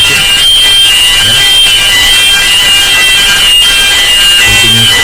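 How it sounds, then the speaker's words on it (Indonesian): A ship's engine room alarm sounds as a continuous, loud, steady electronic tone that fills the space without a break. "Selanjutnya ini engine room alarm, berarti alarmnya bunyi dari ruangan mesin."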